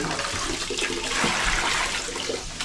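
Steady rushing water pours continuously, like a tap running, filling the whole clip with a dense hiss and no voices.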